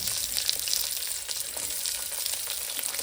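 Oil crackles and splutters in a pan while cooking sambar, a continuous close sizzle dotted with small pops throughout.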